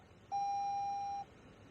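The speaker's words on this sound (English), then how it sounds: "The SRS airbag and the seatbelt light will constantly beep." A 2020 Toyota Corolla SE seatbelt warning chime sounds once as a single steady electronic beep lasting about a second inside the quiet car cabin.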